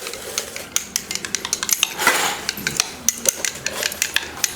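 A spoon stirs a crushed herbal ball into a glass of liquid, producing rapid, close, repeated clinks against the glass in an uneven rhythm, with a brief swishing pause in between.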